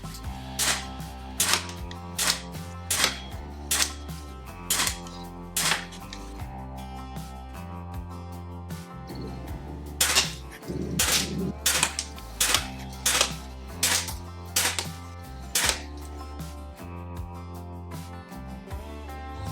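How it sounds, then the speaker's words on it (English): A Weihrauch HW70 Black Arrow air pistol fires a string of shots, each a sharp, close crack, spaced about a second apart in two bursts with a brief gap between them. "I'm going to shoot an 8-shot string with the Black Arrow."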